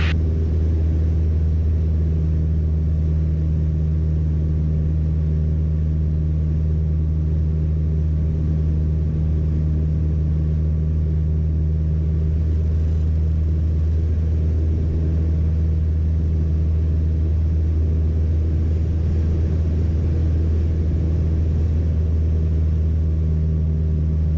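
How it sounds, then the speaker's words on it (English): A light aircraft engine throttled back to 2200 RPM during a crosswind circuit hums as a steady, unbroken low drone throughout, close and even in loudness, with no voices. "Throttle back to 2200 RPM."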